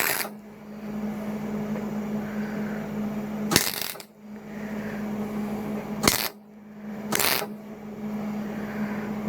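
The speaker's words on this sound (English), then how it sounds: "let's get a little welding here" MIG welding on the radiator support of a 1979 GMC C15 truck, heard as a steady crackling buzz over an electrical hum, broken by a few short, sharp bursts.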